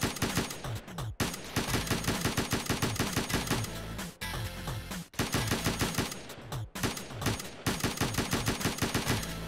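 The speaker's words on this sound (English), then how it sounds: "making the gun finally able to shoot" Rapid automatic gunfire from a gun in a Roblox first-person shooter game, loud bursts of fast repeated shots with brief pauses between volleys, heard alone.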